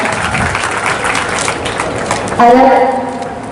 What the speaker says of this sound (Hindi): एक बार पुनः जोरदार तालियां, तालियों में मजबूती दिखनी चाहिए, एनर्जेटिक तालियां।